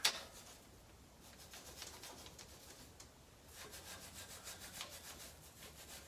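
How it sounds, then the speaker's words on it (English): A wire brush scrubs rust from the front brake parts of a Toyota 4Runner, a steady rasping scrape that strengthens in the second half, fairly quiet and close, with no voices. "I'm going to clean up the rusty area with my wire brush"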